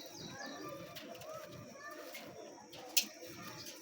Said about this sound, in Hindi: बड़ा तगड़ा कबूतर है।